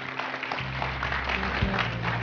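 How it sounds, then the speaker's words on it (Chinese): A studio audience on a Chinese dating show applauds, a short burst of many hands clapping heard over music or a steady background tone, fairly loud and continuous throughout. "我们掌声鼓励他们。"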